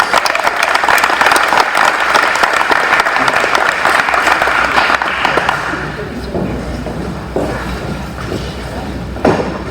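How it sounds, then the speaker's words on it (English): A crowd at a school awards evening applauds the archers, loud sustained clapping up close that thins and fades toward the end, with a few thumps near the end. "give these archers one last round of applause"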